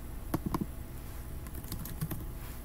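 Keyboard typing for a few seconds while entering a preset name in Sony or MAGIX VEGAS editing software, with scattered soft key clicks, a short burst early on and a few more later, close and quiet.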